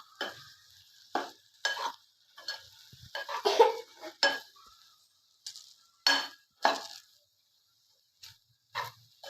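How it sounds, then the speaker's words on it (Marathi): Okra being stirred in a pan on low heat with roasted gram flour, for a spiced okra dish: a series of separate, fairly close scraping and stirring strokes with short pauses between them and no talk. "मिक्स करून घ्या भेंडीला।"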